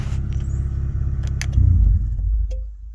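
Idling engine of a Honda Accord CB7 with a swapped F23A SOHC VTEC engine, a steady close rumble that swells briefly and then cuts off as the car is shut down, leaving a faint tail.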